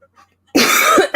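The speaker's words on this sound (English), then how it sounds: "They're gonna cough right there." A person gives one harsh, loud cough after a quiet moment, and a second cough starts right at the end.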